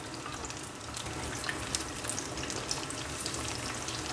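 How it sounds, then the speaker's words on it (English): Banana and sweet potato fritters fry in a shallow layer of oil, producing a steady, dense sizzle with small crackles and pops throughout, close and continuous with no talking. "we'll fry it until it's a bit slightly brown"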